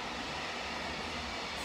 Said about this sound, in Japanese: すごいな、貨物列車が、